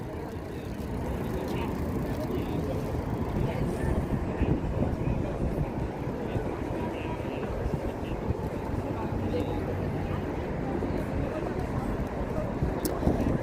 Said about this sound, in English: So next is the P-51 Marco Rusconi